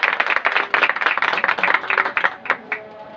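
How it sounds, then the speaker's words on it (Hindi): Audience clapping in response to a call for loud applause at a Hindi-language gathering, a dense run of many hands that thins into a few scattered claps near the end. "मैं चाहता हूँ एक दफा जोरदार तालियां खुदा के खातिर के लिए।"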